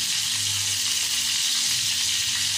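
Seekh kebabs shallow frying in hot oil, a loud, dense, continuous sizzle heard up close with no talk.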